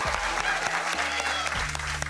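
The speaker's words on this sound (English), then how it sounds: "give them a round of applause." An audience applauds steadily for a returning cruise crew, dense clapping filling the room under a low musical hum throughout.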